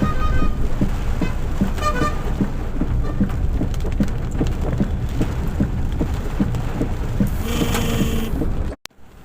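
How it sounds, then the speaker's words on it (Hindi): Heavy rain drums steadily on a car driving along a road between Haldwani and Kichha, a loud, continuous hiss with engine and road rumble beneath, a horn toot near the end, then it cuts off abruptly. "अब फिर से बारिश हो गई है।"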